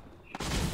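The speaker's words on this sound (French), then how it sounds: "On tire de gauche et droite, je comprends rien." A sudden burst of rapid gunfire from a Fortnite match breaks in after a quiet moment, dense and loud, filling the rest of the short stretch.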